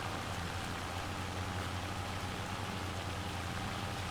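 Steady rain pours in Farming Simulator 25 during springtime field mowing, a constant dense hiss of falling water that stays even and fills the whole clip without breaks.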